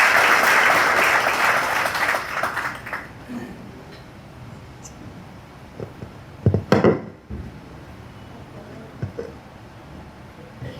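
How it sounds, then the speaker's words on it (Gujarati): Audience applause welcoming a speaker at a rationalist lecture gathering: dense, loud clapping at the start that thins out over about four seconds, followed by a few scattered claps and knocks in a quiet room. "તો ભૂપેન્દ્રસિંહ રાવલજીને એક વખત જોરદાર તાળીઓથી વધાવી લઈએ સર."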